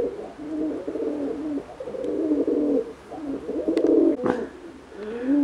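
Pigeons kept for a pigeon exhibition coo in repeated low, throaty phrases close by, the rolling calls overlapping almost continuously with brief pauses and a sharp rustle or flap near the end.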